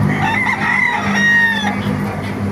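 At a market in Baliuag, Bulacan, roosters crow and chickens cluck in a busy, continuous chorus, loud and close, with overlapping calls throughout.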